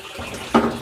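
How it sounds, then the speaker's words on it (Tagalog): Strong water gushing from a bathroom tap during cleaning, a brief steady splashing rush with a sharper surge near the end. "Malakas naman yung tubig mga kabayan."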